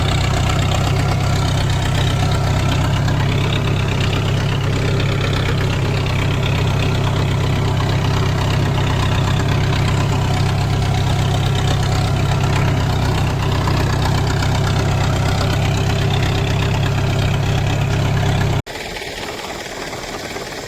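A tractor engine idles loudly in a farm field as a constant heavy low drone, running unbroken for most of the stretch before cutting abruptly to quieter background near the end.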